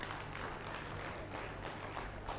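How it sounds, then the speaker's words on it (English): Applause from a crowd honoring boot camp attendees, a dense steady patter of many hands clapping together, fairly loud and continuous without pause. "let's give a round of applause to everyone that attended the boot camp"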